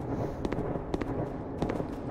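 Gunfire in the video game SCP: Secret Laboratory, a few sharp cracks spaced irregularly over a steady busy in-game background, moderately loud.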